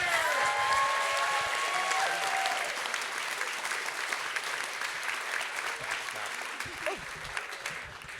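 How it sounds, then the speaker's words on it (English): Audience applause after a community theatre production, a dense sustained clapping that continues for the whole stretch and eases off slightly toward the end, with some faint voices mixed in. "could we have a round of applause for everybody?"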